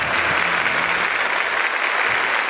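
A studio audience at a Catholic evangelization broadcast applauds, a dense, even wash of clapping that holds steady throughout.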